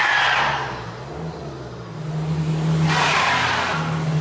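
A car with traction control switched off spins its wheels on ice, the engine revving in a steady drone while hissing bursts of tire slip swell and fade, close and loud.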